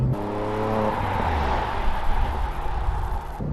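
A Porsche engine accelerating while driving, heard from inside the cabin: a rising, throaty tone that climbs for about a second, then settles into a steady loud drone.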